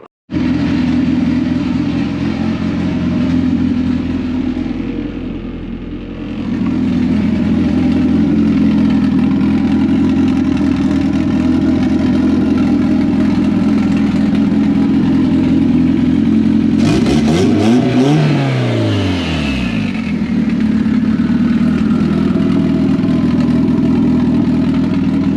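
A finished race car's engine turns over and runs steadily at a loud, close idle, dipping briefly early on, then rising in a strong rev before settling back, with no talking.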